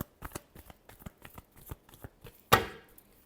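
A deck of tarot cards is shuffled by hand in a quick run of crisp riffling flicks, then ends with one louder, sharper slap of the cards, close and clear with no talking.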